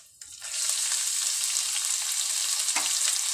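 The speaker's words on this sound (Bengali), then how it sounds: "এবার আমি এর মধ্যে কুচনো পেঁয়াজ দিয়ে দিচ্ছি।" Chopped onions hit a hot pan of fried cumin while cooking veg pulao, setting off a loud, steady sizzle that starts abruptly and holds without a break, close up and with no talk.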